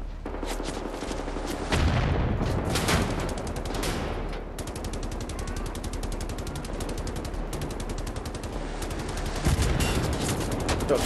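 Rapid automatic gunfire from a gun in Wolfenstein: The New Order, loud and sustained through the whole stretch, with sharp bursts of shots packed tightly together and a few heavier blasts mixed in.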